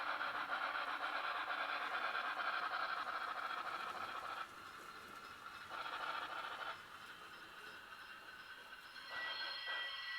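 Sound decoder of an N scale BLI T1 Reading model steam locomotive running, with steady chuffing and rail-like rumble that drops out and returns in sections as the throttle is adjusted, faint and continuous.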